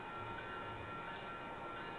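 A passenger train with baggage cars at the rear rolls past with a steady, low rumble of wheels on track, continuous and fairly faint.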